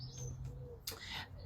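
Rooks and crows call outdoors, with faint, distant bird calls in several short bursts over quiet background noise.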